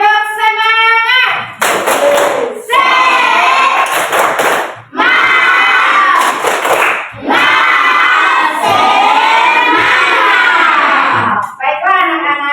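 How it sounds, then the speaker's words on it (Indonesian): Children in a primary classroom perform a rhythmic clapping chant together, loud and close, with bursts of group shouting and clapping in several repeated phrases. "Ya, tepuk semangat."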